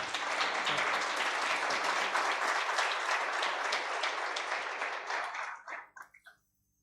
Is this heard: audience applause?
yes